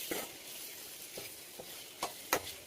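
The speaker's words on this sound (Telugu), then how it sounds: "ఒకసారి బాగా మిక్స్ చేద్దాం ఫ్రెండ్స్." A brinjal and peas curry sizzles softly in a pan while a spoon stirs it, giving a low steady frying hiss with a few distinct scraping knocks spaced irregularly, the last two louder.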